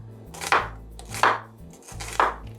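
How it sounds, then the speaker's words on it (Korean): A knife cuts vegetables into thin strips on a board for braised perilla leaves, three distinct close chopping strokes evenly spaced over a couple of seconds. "나머지는 이제 채를 썰어 놓으면 됩니다"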